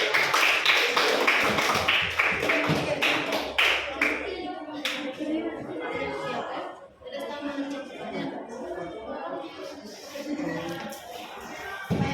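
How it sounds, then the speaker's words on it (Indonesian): A classroom group bursts into loud, brisk hand clapping for a student team, the applause fading after a few seconds into chatter, laughter and shuffling as people talk in the room. "tepuk tangan dulu buat kelompok ini."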